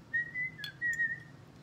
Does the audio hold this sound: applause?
no